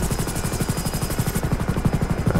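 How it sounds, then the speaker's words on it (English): Super Puma rescue helicopter in GTA 5, its rotor chopping in a fast, even rhythmic thump with a high whine over it, loud and continuous at close range. "This helicopter is so big."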